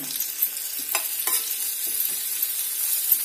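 Onions and coriander frying in butter on a hot tawa for street-style tawa idli, a steady close sizzle broken by a few sharp stirring scrapes of a spatula.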